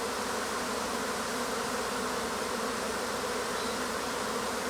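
A honeybee swarm fills the air around an apiary with a dense, continuous buzzing hum, steady and loud throughout with no other sounds.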